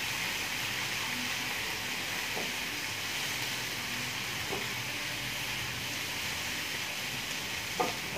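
Onions frying steadily in a pan while being stirred every so often, cooked toward golden brown for a drumstick and tomato curry; a continuous broad sizzle with a few faint scrapes, no talk.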